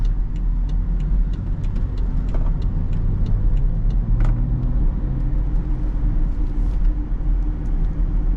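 A BMW SUV drives through a roundabout, its engine a steady low rumble with road noise heard from inside the cabin, continuous and fairly loud with no voices.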